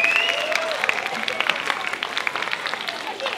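Audience applause at an exhibition opening, a short patter of clapping that thins out over a few seconds, with a voice speaking over it.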